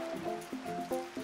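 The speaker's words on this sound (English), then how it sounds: "I can hear the waves crashing." Cartoon ocean waves crash and wash in a rushing, watery swell with tonal music-like lines layered over it, fairly steady and moderately loud across the short stretch.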